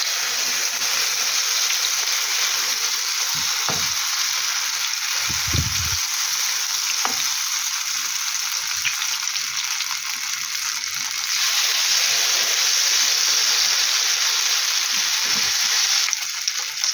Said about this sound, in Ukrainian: Сковорідка дуже нагрілася, я трішки скрутила, зараз вже не буде так сильно скарчати.